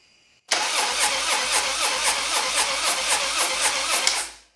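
A Harley-Davidson Dyna motorcycle in neutral cranks over steadily without catching, its starter churning in a fast, even rhythm for about four seconds before it cuts off. The sound is close and loud, with no talking.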